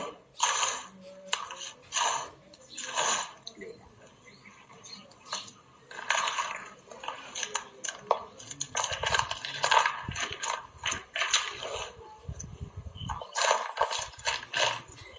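Soil and potting media for microgreens being mixed by hand, giving repeated close gritty crunching and rustling bursts in an irregular rhythm, with no one speaking.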